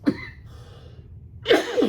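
Two sharp coughs sound close to the microphone, one at the start and another, harsher pair near the end, separated by quiet.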